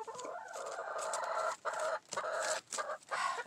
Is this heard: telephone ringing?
no